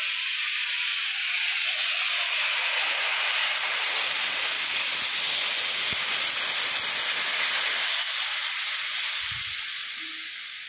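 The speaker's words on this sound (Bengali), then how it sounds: "ঝিঙেগুলো 2 মিনিট ভেজে নিয়েছি, এবার জল দিয়ে দেবো।" Water hits a hot pan of fried ridge gourd with a loud, continuous sizzling hiss of steam that holds steady for several seconds before easing off slightly at the end.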